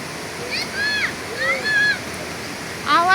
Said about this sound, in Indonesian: Itu deras airnya.